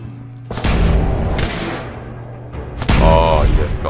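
Fallout 4 gunfire cracks out in a few heavy, booming bursts, with a pause between them, loud and close.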